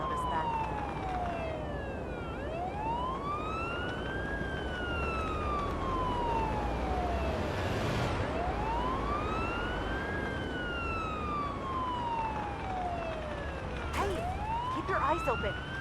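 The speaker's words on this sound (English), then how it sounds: "Use the siren as needed." An ambulance siren in the game Ambulance Life: A Paramedic Simulator sweeps up and down in long, repeated cycles, loud and close, over a steady engine rumble with a brief sharp yelp near the end.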